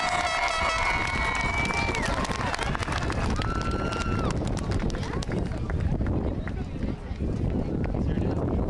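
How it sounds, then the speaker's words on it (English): Audience applause at an 8th grade promotion ceremony, loud, continuous dense clapping with cheering throughout, voices calling out over it. "Let's give him a round of applause."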